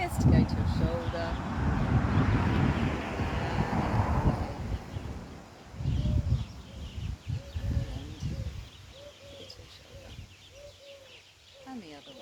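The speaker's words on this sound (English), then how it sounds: "It's a little bit windy." Gusty wind buffets outdoors, a loud rushing roar in the first few seconds that returns in a burst, while birds chirp and coo nearby and someone talks between the gusts.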